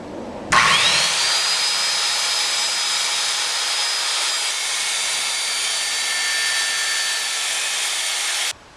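A power saw rips a 1-inch strip from 1x6 wood stock for a curio shelf, a loud steady whining cut that starts abruptly, holds nearly nine seconds and then stops, with no talking.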